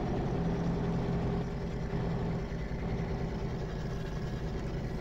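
A Kenworth truck engine in Farming Simulator 2013, hauling bales at cruise-control speed, gives a continuous low droning rumble that holds steady and loud, easing slightly after the first second and a half.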